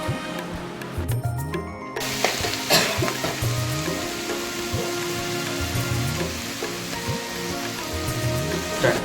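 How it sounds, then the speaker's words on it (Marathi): Onion frying in oil in a pan over a wood-fired village stove, a steady close sizzle with scattered louder crackles and spatula knocks, no talking. "त्याच्यात थोडं तेल टाकून कांदा भाजायला ठेवायचा आहे"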